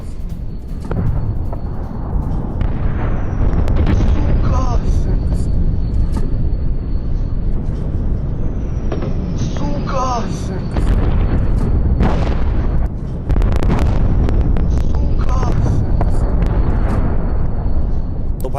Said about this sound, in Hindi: भयानक धमाका ये